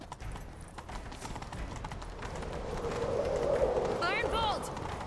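Rapid clip-clop of horse hooves galloping steadily in The Witcher 3: Wild Hunt, with game music and ambience underneath and a brief chirpy whistle near the end.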